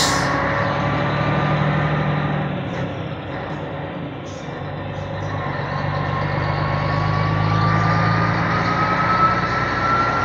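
A heavy truck crawls in low gear over a speed bump, its engine droning loud and steady, dipping and then rising in pitch as it climbs, with rattling chassis noise and no talk.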